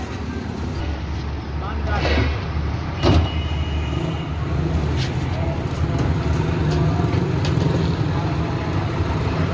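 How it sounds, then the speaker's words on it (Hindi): A bus idling and moving off at a roadside stop, bound for Pindi and Islamabad with goats aboard; a steady low engine rumble runs throughout with a brief door or mechanical clunk near the middle, and people talk over it. "ये बस है पिंडी इस्लामाबाद जा रही है"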